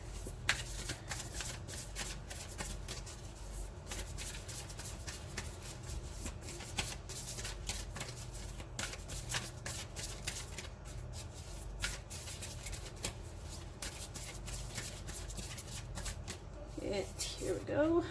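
Oracle cards from a Work Your Light deck are shuffled by hand in a long run of quick, soft riffling taps and slides, close up and steady throughout, with a little talk over them.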